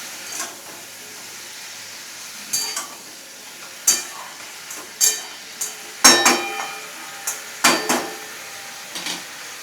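Tomatoes for a sweet-sour Bengali chutney, with turmeric and salt, simmer in a pan, giving a soft steady hiss broken by a dozen sharp metallic clinks and scrapes of a spoon and lid against the pan.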